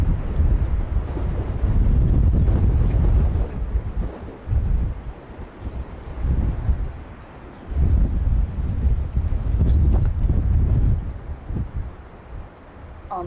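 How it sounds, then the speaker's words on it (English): Strong wind buffets a microphone at Christchurch Airport, deep rumbling gusts that swell and drop in irregular surges over the whole stretch, loud and close, with no voices. "all you're going to get is wind"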